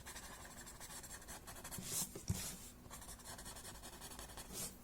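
Pencil being blended across paper during a drawing, a close continuous dry rubbing and scratching with a few brief sharper strokes.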